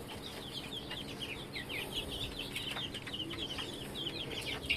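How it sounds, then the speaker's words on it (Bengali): A young chick inside a pigeon house peeps in a quick, faint series of high chirps, continuing through the whole stretch against a low background hiss. "ওই যে মুরগির বাচ্চা একটা এদিক দিয়ে ঢুকে আছে"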